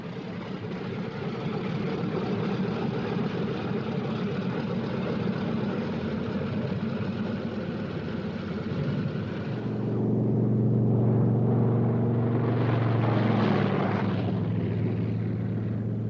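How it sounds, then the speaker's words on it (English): A much-modified, fully radio-controlled drone B-17 bomber takes off, its four piston engines droning steadily, then swelling into a louder, deeper roar as it gathers power. "A converted drone B-17, much modified and completely radio-controlled from the ground, takes off."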